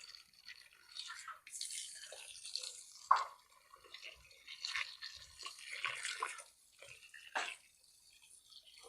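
Water splashes and trickles steadily onto potted fruit plants, a soft, hissing pour with small drips and splatters, fairly quiet and continuous.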